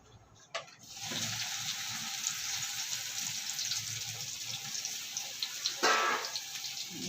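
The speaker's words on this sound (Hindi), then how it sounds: "तब तक हमारा ये तेल गरम हो गया है। अब हम इसे फ्राई कर लेते हैं।" Hot oil sizzles steadily in a pan as food is fried for tomato soup, with a sharp crackle at the start and a louder hiss near the end, close and continuous.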